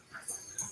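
A dog tugging on a destroyed cardboard box in a game of tug of war, giving brief close wheezy grunts and a couple of sharp rustling tugs within a moment, with no talking.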